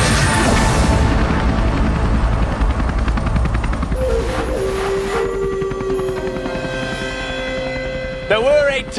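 A helicopter flies over jungle in Northern Thailand near Chiang Dao. A loud, steady rotor roar fills the whole stretch, with people talking over it and a brief sharp sound near the end.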